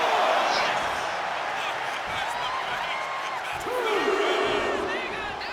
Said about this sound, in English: Letting this crowd fire her up right now.